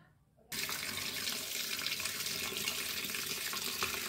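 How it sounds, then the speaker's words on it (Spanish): Water poured into a cooking pot holding garlic cloves and bay leaves for a hare stew, a steady rushing stream that starts abruptly and runs continuously, fairly loud and close. "Estamos colocando agua"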